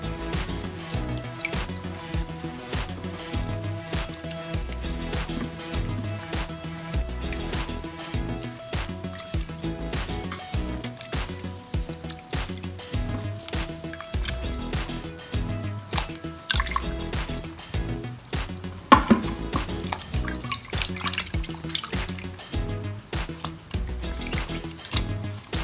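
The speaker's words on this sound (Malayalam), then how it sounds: "നമുക്കത് നല്ലതായിട്ട് വെള്ളം പോകുന്നിടം വരെ ഒരു 10-15 മിനിറ്റ് അത് ആ സ്റ്റെയിനറിൽ ഇട്ട് വെക്കാം." Boiled country chicken, cooked with salt, ginger and garlic, sits draining in a kitchen strainer, giving a steady patter of drips and trickling water that runs on for about twenty-five seconds, soft and close, without talk.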